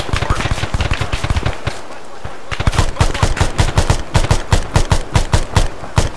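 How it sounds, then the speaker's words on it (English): Rapid gunfire in the ArmA military game: dense, loud bursts of automatic shots in fast rhythmic volleys, with a short lull before the firing resumes even more intensely. "I was distracted by the gunshots."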